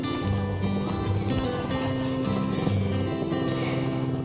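A motorcycle engine drones loudly and steadily up close, with the pitch shifting as the throttle varies and no one talking.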